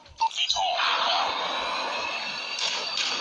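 An airplane roars overhead in Call of Duty Mobile, a steady loud engine drone that builds after a few brief sharp game sounds, while a player talks.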